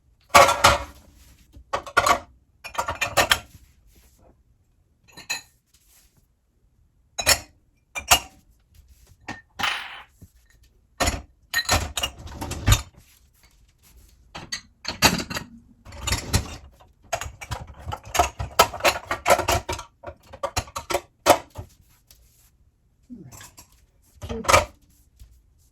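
Knives, spoons, a cake pan and other dishes clatter into the racks of a Maytag dishwasher in a series of sharp, close clinks and knocks, coming in uneven bursts with short pauses between.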